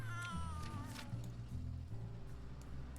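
A pet cat in The Sims 3 meows repeatedly in drawn-out, wavering cries, loud and close, over a low game-music background.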